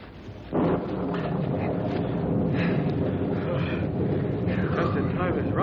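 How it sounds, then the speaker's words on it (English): A radio-drama thunderstorm effect starts with a loud burst of thunder, then a heavy, continuous rumble and wash of storm noise under a voice that keeps talking. "Storm's about on us."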